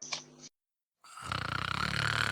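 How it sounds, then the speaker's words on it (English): A sleeping person snores heavily with a rattling, rhythmic rasp, starting after a short silence and growing loud and close, with a brief breathy sound at the very start. "recording the adorable little engineer hacker sound asleep, snoring like she's rattling the walls"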